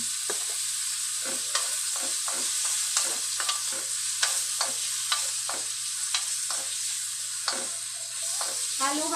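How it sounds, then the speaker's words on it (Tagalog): Chicken frying in a pot for corn soup is stirred steadily, a utensil scraping and clacking against the pot in repeated strokes over a constant close sizzle, with no talk. "Halo-halo lang tayo ng konti hanggang sa medyo maluto na ang ating chicken."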